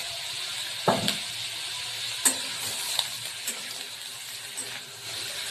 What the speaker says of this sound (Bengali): একটু ভেজে নেবো, বেশি ভাজবো না, হালকা